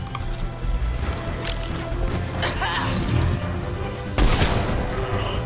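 Gunfire and impacts in a Mass Effect 3 sci-fi battle with a sniper rifle, sharp cracks and crashing hits over a dense combat soundscape, one loud report near the end.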